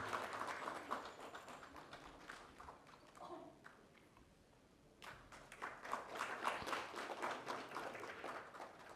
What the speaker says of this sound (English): With a huge round of applause, ladies and gentlemen.